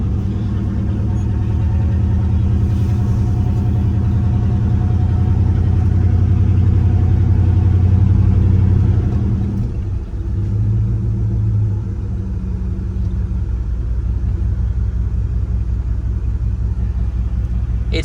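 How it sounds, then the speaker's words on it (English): A 1995 Dodge Ram 1500 V8 work truck on a short test drive in hot Tampa, Florida weather: a steady, loud low engine drone and road rumble throughout, easing slightly partway through, with no talking. "Quick little test drive for you."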